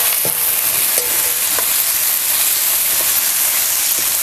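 Chopped tomatoes hit a pan of sautéed garlic for chicken gravy cooked over a wood-fired clay stove, giving a loud, close, unbroken hiss with a few light clicks of a utensil.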